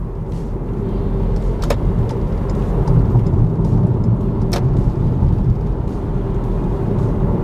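A car slows and makes a U-turn, heard from inside the cabin as a steady, low engine and road rumble with a couple of faint clicks.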